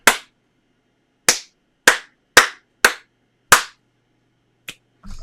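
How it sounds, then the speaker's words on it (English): Sharp single hand claps made to test a small animatronic droid, six crisp separate claps spaced roughly half a second to a second apart in a quiet room, then a softer tap and a brief rustle. "Okay, let me do a clap."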